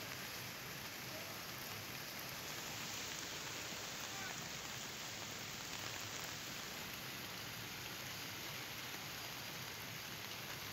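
Heavy rain pouring over the city of Balasore, a dense steady hiss of drops on surfaces that holds evenly from start to finish with no voices.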